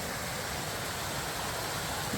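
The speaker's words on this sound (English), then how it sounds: "Here's our first little waterfall." A small waterfall beside a lush, green hiking trail gives a steady, even rush of falling water, a constant broadband hiss with no pauses or voices.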